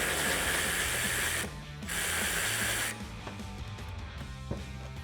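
A ratchet with a 7mm socket backs out a bolt on the rear bumper of a 2019-2021 Chevrolet Silverado or GMC Sierra 1500, giving a quick run of close, crisp clicks after a steady hissing noise.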